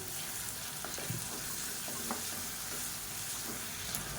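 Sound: onions sizzling while frying in a pan

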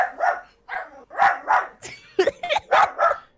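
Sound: dog barking

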